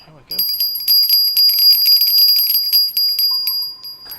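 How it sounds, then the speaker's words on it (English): A new bell chime from the Japan saltwater fishing game Fishing Planet, a bright, sustained high ringing with rapid repeated strikes for several seconds, near and loud, ending in a steadier tone. "I quite like that new bell"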